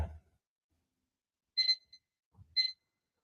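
A timer alarm goes off during a yoga session, two short high electronic beep bursts about a second apart in a quiet room, clear and fairly loud.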